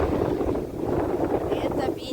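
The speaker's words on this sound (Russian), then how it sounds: "Сильнейший ветер, сейчас и волны" A very strong wind buffets the microphone on a winter beach in Benidorm, Spain, where waves are running and a red flag is flying. The roar is loud and constant and fills the whole span.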